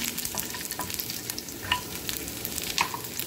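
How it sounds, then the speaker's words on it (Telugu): Garlic sizzles and fries in a hot pan while it is stirred, a steady crackling hiss with scattered small pops and the scrape of a spoon, close and continuous for the whole stretch. "వెల్లుల్లి కూడా మంచిగా ఫ్రై చేసుకొని"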